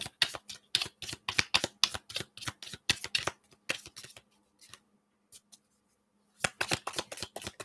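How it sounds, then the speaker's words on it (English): Tarot cards are shuffled in rapid riffling bursts, crisp and close, followed by a quiet pause with a few soft taps, then more fast shuffling. "Do one more shuffle."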